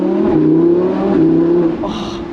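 Lamborghini engine revving nearby, a loud throaty harmonic drone rising and falling through a couple of revs before easing off.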